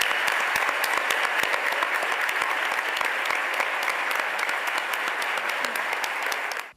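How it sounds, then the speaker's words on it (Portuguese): Loud, dense applause from a seated audience at an OAB Nacional ceremony, steady clapping that fills the whole stretch alone before cutting off sharply at the end. "E eu gostaria de pedir a toda essa plateia uma grande salva de palmas"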